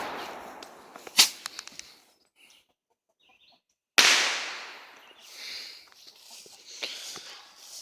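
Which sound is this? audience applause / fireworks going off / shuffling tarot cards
fireworks going off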